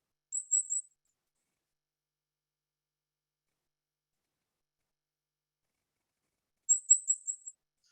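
Cape May warbler singing two short bursts of very high, thin, rapid notes, one near the start and a longer series near the end, with silence between.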